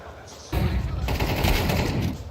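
Rapid rifle gunfire in Counter-Strike 2 during a playoff esports match, a loud burst of close shots and clattering fire lasting about two seconds, with crowd or caster noise beneath.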